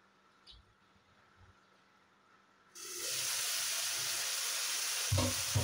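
Vegetables with pointed gourd, ridge gourd and potato are stirred in spice paste in a pan: after a few quiet taps, a loud steady sizzle bursts in and holds, with scraping stirs near the end.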